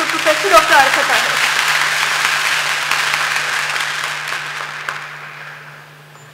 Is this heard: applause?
yes